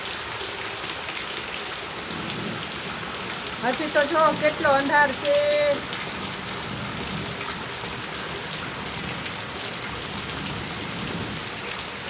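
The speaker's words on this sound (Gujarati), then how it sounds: "બે દિવસથી બહુ વરસાદ આવે છે મિત્રો." Heavy monsoon rain falls steadily on a village yard and farm field, a loud, continuous patter and hiss; a person speaks briefly partway through over the downpour.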